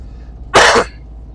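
A single short, sharp cough close to the microphone, standing out against a quiet low hum, in Morocco between Merzouga and the Atlas Mountains.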